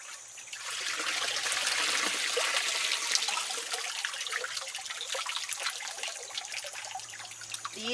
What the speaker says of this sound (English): now I'm just going to collect some water